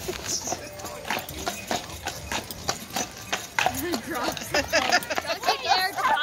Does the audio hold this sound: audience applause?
no